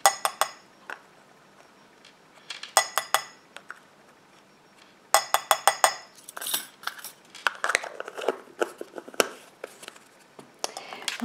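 Metal utensils stir a smoothing eye-contour cream with hyaluronic acid in a small container, giving close, sharp clinks and scrapes in short clustered bursts separated by quiet pauses, then a denser run of tapping toward the end.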